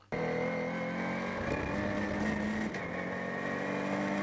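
Ginetta G56 GTA race car on the Snetterton 300 circuit, its engine droning loud and steady from onboard, pitch shifting with gear changes and no voices.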